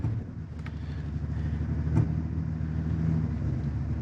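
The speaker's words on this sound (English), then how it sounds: "traction control is off, and wheel spinning here" A 2022 Toyota Tundra TRD Off Road with traction control off, its wheels spinning on rough ground, giving a steady, moderately loud engine drone with a slight surge and a brief clatter midway.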